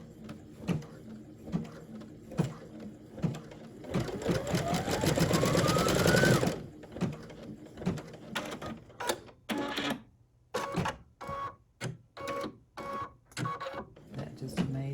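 A Brother VE2300 embroidery machine stitches nearby, first with a loud continuous whirring burst that rises in pitch, then with a run of quick, uneven mechanical clacks and thumps as the needle works.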